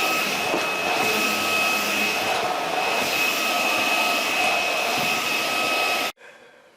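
A Dewalt cordless vacuum cleaner runs close and loud with a steady high-pitched motor whine and airy rush, holding constant for about six seconds before cutting off abruptly.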